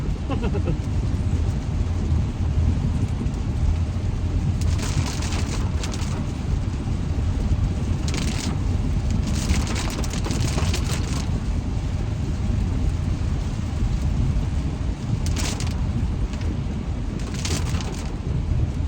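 Heavy pouring rain makes a steady, dense hiss throughout, swelling in a few louder gusty bursts; no clear thunder stands out.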